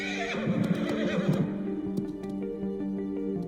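A horse whinnies loudly and close, its wavering neigh falling away after about a second and a half, followed by a lingering steady tonal background with faint scattered clicks.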